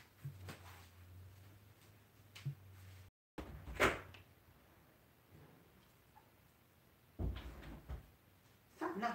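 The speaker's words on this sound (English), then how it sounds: "Stop knocking on the door, puppy." A dog knocking on a door to be let in, a few dull thumps and rattles at irregular intervals, moderately close, over a quiet room.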